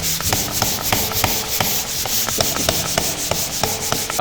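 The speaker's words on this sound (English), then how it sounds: "So all we gotta do is grab our sander." Power sander working over dried drywall joint compound, a steady abrasive whir with rhythmic rubbing strokes and scraping pulses, close and fairly loud, with no talking.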